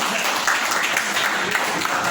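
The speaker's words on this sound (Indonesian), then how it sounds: "Tepuk tangan untuk semuanya." A classroom full of people claps together in dense, sustained applause, loud and even throughout without any pause.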